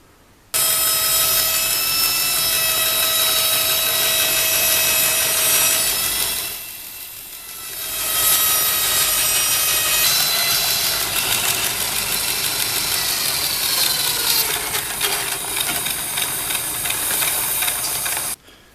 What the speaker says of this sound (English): I'm going to chop it up on my 16-inch bandsaw.